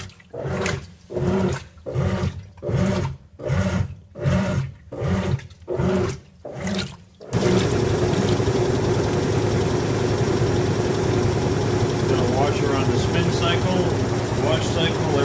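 A GE washing machine, just fitted with new gear case supports, runs a wash cycle: rhythmic swishing agitation strokes with short pauses, then a continuous loud whooshing water and motor rumble.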